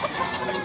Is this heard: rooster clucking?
yes